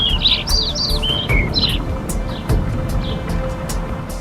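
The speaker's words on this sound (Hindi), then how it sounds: "आपको सिवाय चिड़ियों की चहचहाहट के कोई और आवाज़ सुनाई नहीं देगी।" Birds chirp and tweet near a river with waterfalls, a series of bright, quick calls in the first half that thin out later, over a soft steady background of flowing water.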